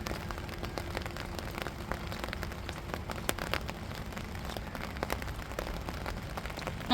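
Heavy rain falling outdoors, a dense continuous hiss of drops pattering on surfaces with occasional sharper splashes, steady and enveloping.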